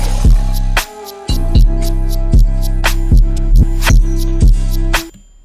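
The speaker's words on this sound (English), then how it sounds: "the first one is Groove Speed with the basic 8 preset." Phonk track built with Groove Speed basic 8 preset automation: loud, booming bass kicks hit in a pulsing pattern under sharp cowbell-like and hi-hat strikes, with a brief dropout early on and a cutoff at the end.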